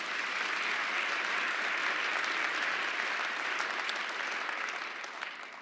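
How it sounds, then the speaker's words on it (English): Sustained applause from a large crowd at a mayor's State of the City address, dense and steady throughout, tapering slightly at the very end. "Let's give all of them a round of applause."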